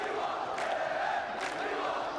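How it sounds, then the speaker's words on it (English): An esports arena crowd at an EA Sports FC 24 tournament roars in a sustained, distant wash of cheering and shouting that swells twice, with no talking over it. "He wants a little bit more from the crowd as well, and they reply."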